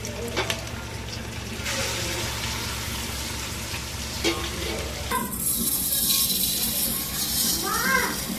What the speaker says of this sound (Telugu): ఇప్పుడు చికెన్ వేసుకున్నామండి. చికెన్ మంచిగా మగ్గాలి.